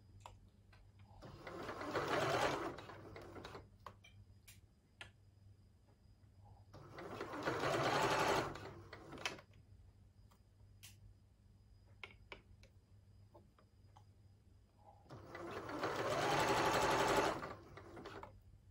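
A home sewing machine stitches a neck band on a little red Coco dress in three separate bursts of a few seconds each, with quiet pauses between them and no talk.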